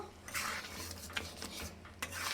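Mixed vegetable dal with garam masala being stirred in a pot: repeated close scraping and sloshing strokes of a spoon against the metal, steady and fairly quiet, with no voices.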